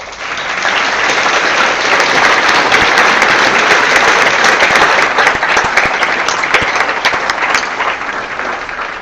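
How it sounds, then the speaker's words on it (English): Audience applause at the close of a symposium panel discussion, loud sustained clapping from a large room that swells, holds steady for several seconds, then thins slightly near the end, with crisp individual claps standing out. "and big applause"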